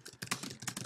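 Quick, close clicks of a computer keyboard come in short irregular bursts of keystrokes, with no voice present.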